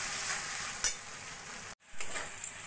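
A spiced masala of tomato and cashew paste sizzles steadily in a pan while being stirred, with a soft scrape of the utensil and a brief pause near the end.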